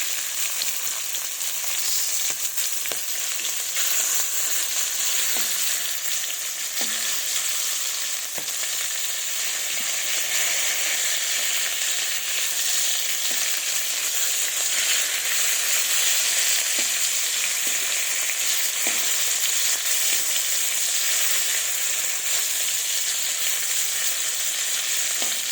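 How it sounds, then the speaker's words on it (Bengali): Pieces of boal fish fry in hot oil in a pan, giving a loud, continuous sizzle that holds steady from start to finish, with occasional soft clicks and pops and no voices over it. "তো আমি মাছগুলো একটু ভেজে নেব লাল লাল করে একটু"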